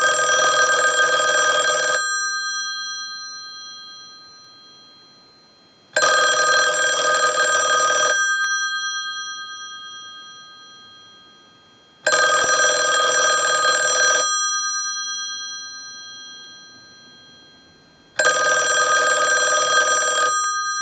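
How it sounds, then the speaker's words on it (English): A Western Electric 2500 touch-tone desk telephone rings its bell in four regular bursts of about two seconds each, separated by roughly four seconds of fading ring-out. The clanging is loud and close, with no voices. "use the analyzer and send a ring cycle like you were getting a call"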